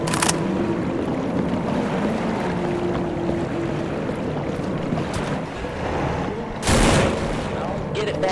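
Gunfire in the zombie video game No More Room In Hell, a few sharp shots standing out, one loud burst near the end, over a steady dense background rumble.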